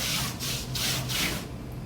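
Soft, close brush strokes of someone painting, several smooth rubbing sweeps in a steady rhythm, each lasting about a quarter second.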